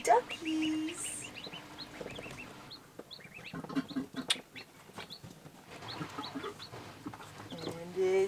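Chickens cluck and murmur softly nearby, with scattered short calls and light rustling throughout, while a faint voice speaks briefly in the background.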